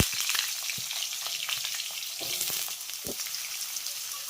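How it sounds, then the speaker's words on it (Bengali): Cut pumpkin and potato pieces hit tempered spiced oil and fry with a dense, even sizzle, plus a few crackles and soft stirring knocks, close and without voices. "আর এবার আমি ফোড়নের ভিতরে দিয়ে দেবো কেটে রাখা মিষ্টি কুমড়ো আর আলু"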